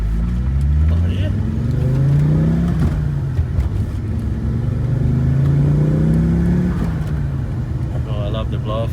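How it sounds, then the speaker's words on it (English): An Audi Ur Quattro accelerates close up in a steady, loud engine drone that rises and falls through the gears, with brief fluttering turbo blow-off bursts between pulls and occasional voices over it. "Oh, I love the blow-off flutter"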